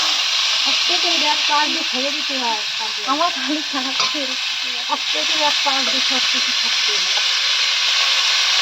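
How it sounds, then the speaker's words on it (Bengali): Food fries in ghee in a very hot kadai, giving a loud, steady, close sizzle and hiss throughout while someone talks over it. "আর এগুলো হালকা ভেজে নিতে হবে"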